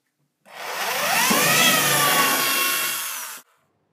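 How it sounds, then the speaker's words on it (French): A power screwdriver drives a screw into reclaimed pallet wood, joining table legs to shelves for a bedside table: one steady whirring burst of about three seconds, close and loud, with silence before and after. "J'ai décidé de visser les pieds aux étagères"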